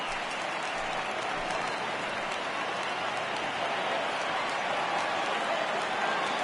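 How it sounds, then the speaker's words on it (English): A baseball video game crowd roars in a steady, dense wash of cheering and applause that holds at an even, loud level from start to finish. "Crowd gets up for the 3-2."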